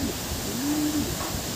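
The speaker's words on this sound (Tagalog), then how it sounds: "Pakagandang ibon, napakabait." A racing pigeon gives a soft, low coo lasting under a second, heard close against a steady background hiss and rumble.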